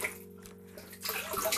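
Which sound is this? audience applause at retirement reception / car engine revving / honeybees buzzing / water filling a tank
water filling a tank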